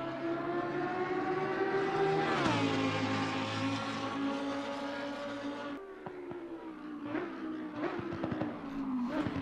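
Lamborghini Huracan EVO2 GT3 race car in Assetto Corsa Competizione at Laguna Seca, its engine screaming at high revs, dropping briefly as it shifts, then a harsher burst with rattling crackles as it powers down the straight.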